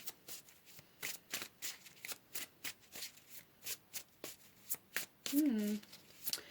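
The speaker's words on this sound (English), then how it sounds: "Let's pull some more cards here." Tarot cards shuffled and pulled: a rapid run of crisp riffling flicks and slaps close up, with a brief voice sound near the end.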